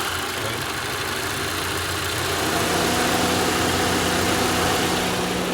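A 2011 Toyota RAV4 engine idles steadily with a constant mid-low hum and vibration, growing slightly louder partway through, with no talking.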